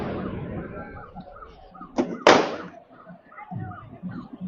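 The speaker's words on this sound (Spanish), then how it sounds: "Lanzaron una bomba molotov contra la representación del Estado de Nuevo León." A Molotov cocktail hurled during a street protest march bursts in two sharp, loud impacts close together, under a crowd murmur and a speaking voice.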